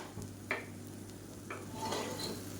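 Cooked basmati rice mixture stirred in a pan for a lunch box dish, giving a few soft scraping strokes of a spoon with faint sizzling underneath, no talking.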